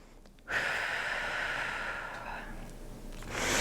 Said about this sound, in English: You could take some cleansing breaths.